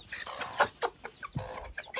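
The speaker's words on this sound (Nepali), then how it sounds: "भाले यही हो भाले यही हो" A rooster clucks in short bursts at close range, several quick calls with brief pauses between them.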